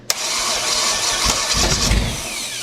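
A 1969 Chevy 327 V8 cranks briefly and catches, settling into a loud, rough, continuous running roar close by.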